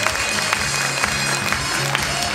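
An audience at a cultural festival event in Armavir, Armenia, claps in a dense, continuous burst of applause, loud and close with a murmur of crowd noise beneath.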